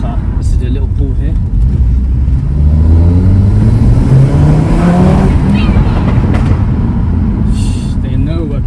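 An Audi TT RS accelerates hard, its engine note climbing steadily through a loud pull with rising harmonics, heard from inside the car with a voice talking over it.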